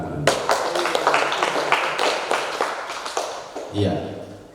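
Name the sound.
audience applause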